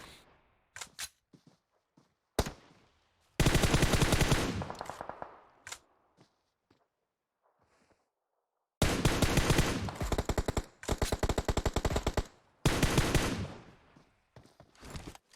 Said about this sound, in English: The shots coming in from the elite now.